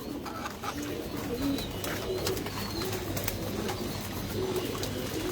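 American Show King pigeons coo softly in a loft, low murmuring calls repeating under a constant hum with occasional faint clicks and rustles.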